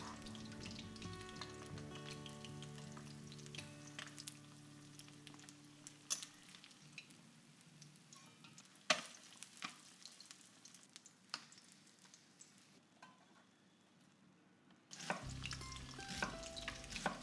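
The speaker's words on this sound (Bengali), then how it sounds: "এই তেলেই মাছের পেটিগুলো ভাজবে মাঝারি আঁচে" Pieces of chitol fish belly fry in oil over medium heat with a steady close sizzle and crackle, and sharp pops and clinks of stirring and turning come through. There is no speech, and the sizzle swells again near the end.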